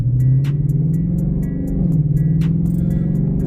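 A 2024 S650 Mustang GT with an aftermarket exhaust idles in a deep, steady low rumble, close and loud, with a slight dip and swell in the burble partway through and no talking.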